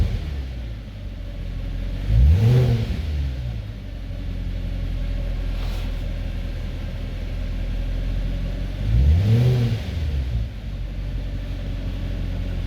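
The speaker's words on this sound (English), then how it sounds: "If I accelerate, it's supposed to change." A 2008 Mercedes S63 engine idling with two short revs a few seconds apart, each a quick rising and falling surge over a steady low rumble.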